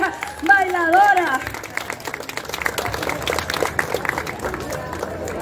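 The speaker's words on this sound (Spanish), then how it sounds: "Aplauso a esa pareja bailadora." Applause and cheering from a crowd greet a dancing couple at a street celebration, starting after a brief sung voice and continuing as a dense, steady patter.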